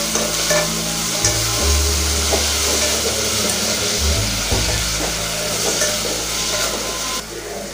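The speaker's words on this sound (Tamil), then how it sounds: "தக்காளி சேர்த்துட்டு சாம்பாருக்கு தேவையான உப்பு சேர்த்து நம்ம வதக்கினோம்னா தக்காளி சீக்கிரம் வதங்கிடும்" Tomatoes with salt sauté in a pan for pumpkin sambar, a continuous loud sizzle of frying with a spoon stirring and scraping through it, close up and with no talking.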